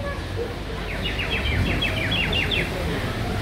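A toy whistle imitating birdsong, a quick run of bright repeated chirping trills over a dense crowd and street hubbub at an outdoor market in Abkhazia.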